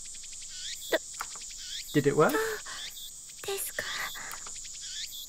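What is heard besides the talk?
cicadas chirping in the video game Steins;Gate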